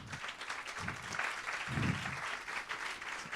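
A seminar audience applauds the speakers, a continuous patter of many hands clapping in a hall, moderately loud with slight swells and a faint voice or two underneath.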